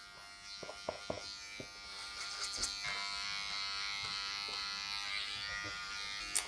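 Electric hair clippers cutting hair fitted with a comb guard, buzzing steadily up close, with small clicks and knocks of handling at the start.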